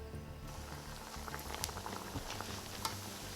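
Kachori frying in hot oil gives a steady, close bubbling crackle with scattered sharp pops, moderately quiet and continuous, with no talk.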